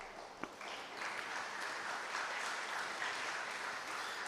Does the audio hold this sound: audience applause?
yes